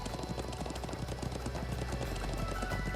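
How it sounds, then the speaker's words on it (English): Steady clip-clop of horse hooves at a brisk gallop in Trails of Cold Steel II, continuous rhythmic beats mixed with game music and ambience. "I'm glad I still remember how to ride a horse."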